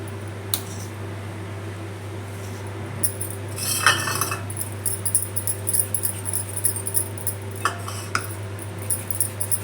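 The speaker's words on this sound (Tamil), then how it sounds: "இப்போ கட் பண்ணிக்கலாம் சின்ன சின்னதாக." A knife cuts through food into small pieces for homemade vegetable puffs, heard as scattered light taps and a short scraping burst over a steady background fan hum; no talking.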